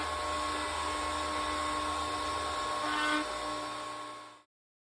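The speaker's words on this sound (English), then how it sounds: "we can route all the notches on this piece" A router table cuts notches in a wooden piece, giving a loud, steady high-pitched whine that holds for several seconds before stopping abruptly.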